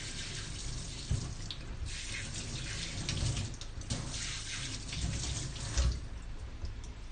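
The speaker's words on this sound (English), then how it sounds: "A little quick hand wash here." A kitchen sink tap running steadily while hands are washed, a continuous close splashing stream with occasional heavier gushes, and no speech.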